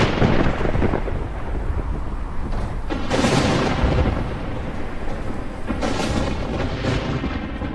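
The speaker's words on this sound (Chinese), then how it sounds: "也不知道是怎么了，总是打雷下雨，这样的鬼天气" Heavy rain pours continuously while deep rolls of thunder swell and crack overhead, loud and close, with several bursts breaking through the steady downpour and no voices.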